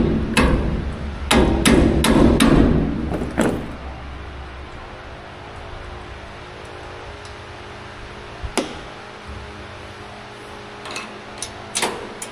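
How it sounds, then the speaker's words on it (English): Several sharp hammer strikes from a Milwaukee hammer ring out close by in a quick cluster, followed by a few scattered, isolated knocks and taps after a quieter stretch. "Use my Milwaukee hammer."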